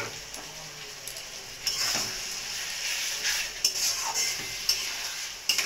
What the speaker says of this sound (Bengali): পেস্টটা দিয়ে ভালো করে নেড়ে চেড়ে নেব,